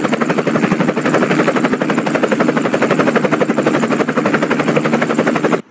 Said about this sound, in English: Why is there a police helicopter in front of the school?